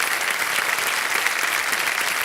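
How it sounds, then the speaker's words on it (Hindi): Loud, dense applause from a studio audience on a quiz show, cheering a contestant named Simran. It continues steadily for the whole moment. "मैं चाहता हूं कि जोरदार तालियां बज जाएं सिमरन के लिए।"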